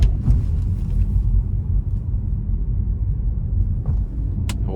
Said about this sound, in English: give it a bit of throttle getting on the interstate here